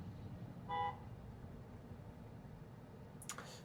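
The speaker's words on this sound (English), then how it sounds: "People are honking at this guy because they didn't quite get in their lane there." Car horns in traffic: a single short toot stands out above a steady low road rumble, a faint second honk following near the end.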